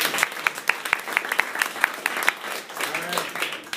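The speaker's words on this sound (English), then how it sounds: "we're all going to applaud" Applause from an audience at a school board meeting, with distinct individual claps in a steady brisk rhythm, fairly close and moderately loud, fading slightly toward the end.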